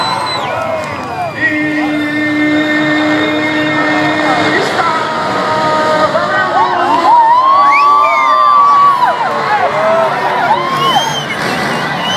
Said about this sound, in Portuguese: Sobe o giro do motor. O gate baixa.